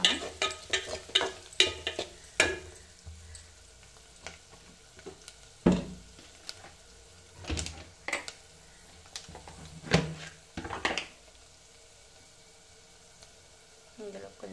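Boiled taro root (colocasia) mixed with turmeric, chili powder and salt is stirred in a pan. A spoon scrapes and clanks in irregular bursts over a soft sizzle, close by, with long quieter stretches between strokes.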